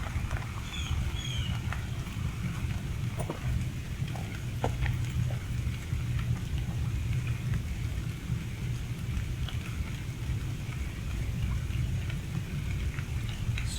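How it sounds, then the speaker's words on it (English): Steady rain falls beside the Tennessee River during bank fishing for catfish, a continuous dense hiss with scattered drops and distant rumbles, no voices. "Stupid rain."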